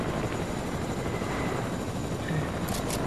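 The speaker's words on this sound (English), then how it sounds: "The helicopter getting shot at, bro." A helicopter in Fortnite takes gunfire, its steady loud rotor and engine roar filling the scene with faint scattered shots barely poking through.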